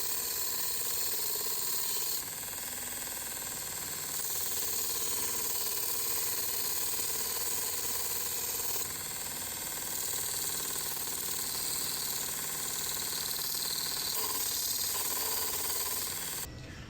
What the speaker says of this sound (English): I'm going to go trim this screw on our bench sander.